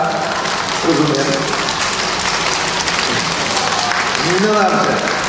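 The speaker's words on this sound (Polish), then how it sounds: "brawami witamy siebie na stanie" A crowd of preschool children claps in a dense, continuous burst of applause at a preschool celebration in Poland, with a few voices calling out over it.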